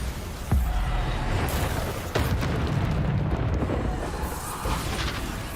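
Bombarda spell blasts in Hogwarts Legacy erupt as loud, booming explosions, one near the start and another partway through, over a continuous roaring rumble.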